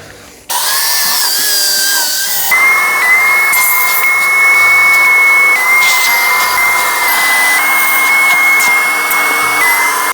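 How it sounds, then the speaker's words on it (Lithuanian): A vacuum cleaner whines loudly and steadily while cleaning the seats of a Škoda Fabia car, its pitch shifting slightly as the nozzle moves over the seat, with no talking. "pirmą kartą siurblį naudoju"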